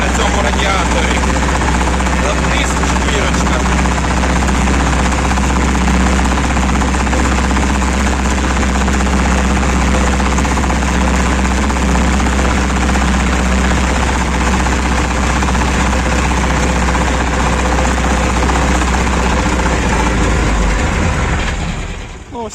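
A loud, heavy tractor engine drones continuously and close by while pulling a disc harrow through a wheat field, steady throughout with no pauses, fading only slightly at the very end.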